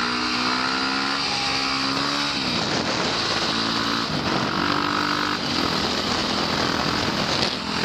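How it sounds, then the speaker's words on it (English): A KTM 530 supermoto motorcycle engine drones loudly and continuously at freeway cruising speed with a slight pitch dip and recovery, close up, mixed with heavy wind rush and no talk. "Cruising on the freeway with the KTM."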